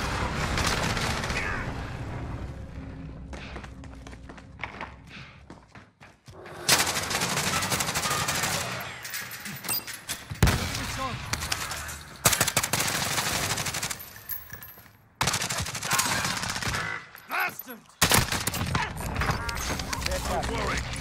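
Gunfire in the shooter video game Warzone, loud bursts and sustained stretches of shooting separated by brief quiet gaps, with voices talking over the action.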